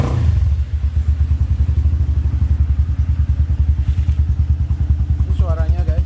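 Kawasaki Eliminator 175 motorcycle engine idling after start-up, a loud, close, steady low thumping pulse with no revving; a voice speaks briefly near the end.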